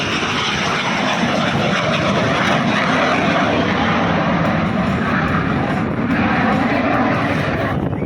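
A Yak 110 aerobatic aircraft with an added jet engine flies an airshow display at Shellharbour, giving a loud, continuous engine roar and rushing jet noise that stays strong for the whole stretch with slight swells in pitch.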